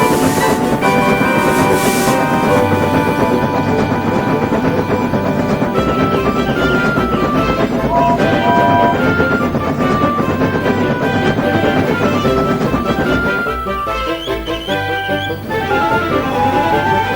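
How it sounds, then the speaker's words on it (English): Steam railway engines roll along the line with a steady, loud rumble and rhythmic rail clatter, accompanied by tonal hums and a whistle-like tone, sounding close and continuous. "Seven engines from the other railway were coming along the line."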